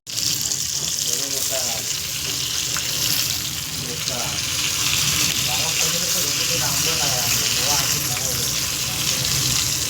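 Bangda (Indian mackerel) fish frying in a pan, a steady, dense sizzle running the full length with faint scraping and tap-like water sounds in the background.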